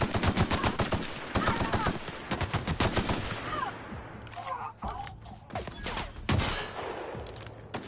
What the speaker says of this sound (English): Oh wow, that's my assault rifle.